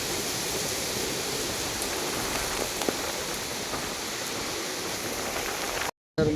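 Heavy rain pours steadily on a hill path up to a temple, a dense, even hiss of drops close by, briefly cut off near the end before it resumes.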